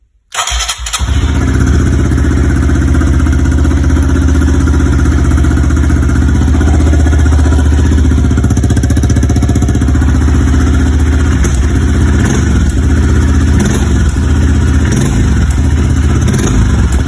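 A Honda CRF 125 motorcycle engine starts after a brief silence and then runs steadily, a loud close rumble with mechanical clatter that holds for the rest of the clip.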